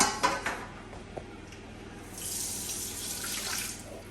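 A wok goes into a kitchen sink under a running tap while cooking cottage pie: a faint clank of metal, then a steady splashing stream of tap water that swells in the second half.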